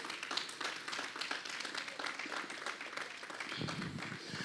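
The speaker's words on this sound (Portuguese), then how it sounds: "Você pode aplaudir o Senhor, pode aplaudir o Senhor." Church congregation clapping in praise during a Portuguese-language worship service, a steady crowd of hand claps with scattered louder individual claps, continuing evenly without a break.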